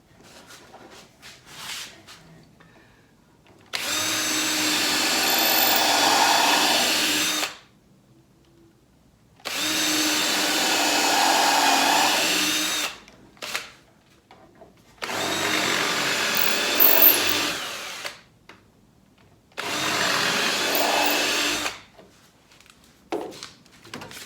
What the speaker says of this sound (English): I'm putting in 2 screws because I don't want the piece to twist at all.